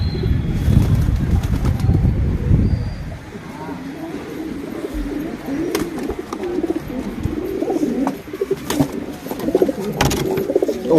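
Pigeons coo low and continuously at close range, with occasional bursts of wing flapping, alongside background activity.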